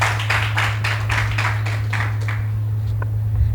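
A studio audience on a French television magazine programme claps for a few seconds, a moderate patter of hands that thins out and fades over a steady background hum.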